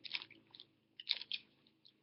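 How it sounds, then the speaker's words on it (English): A sweet that might be chewing gum is chewed close to the mouth, giving soft, irregular wet crunching and smacking bursts in two clusters, quiet and without talk. "Keep chewing it and see if it dissolves."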